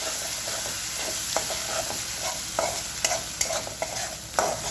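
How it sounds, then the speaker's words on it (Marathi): A spoon stirs spiced masala with drumsticks and cooked dal in a hot pan, a constant frying sizzle broken by repeated close scrapes and knocks against the metal. "आता हा मसाला चांगला परतून घ्यायचा आहे"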